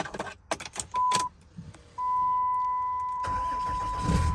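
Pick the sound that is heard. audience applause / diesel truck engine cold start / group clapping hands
diesel truck engine cold start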